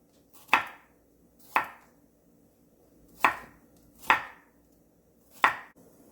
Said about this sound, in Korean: 통마늘도 열알 편으로 썰어주세요.